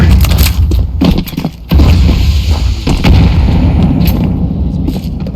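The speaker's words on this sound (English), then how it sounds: "Flashbang. Flashbang." A flashbang grenade goes off during a Counter-Strike match, loud booming bursts and dense gunfire-like cracks in close, heavy game audio that stays intense throughout.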